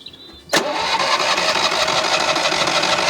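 A Citroën 2CV engine with a fault that keeps it from accelerating cranks and catches abruptly after a brief whine, then runs in a loud, steady, rough drone without climbing in pitch.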